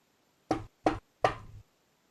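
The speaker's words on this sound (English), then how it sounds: "The wolf knocked on grandmother's door." Three firm knocks on a cottage door, evenly spaced and close, with silence before and after.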